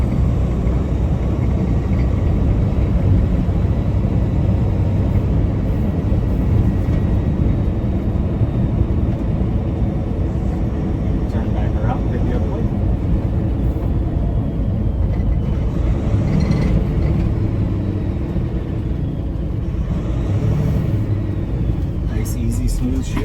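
A 2025 Peterbilt 567 day cab with a Paccar TX-12 automated transmission pulling away, giving a steady low engine rumble and road noise heard from inside the cab, with someone talking over it throughout.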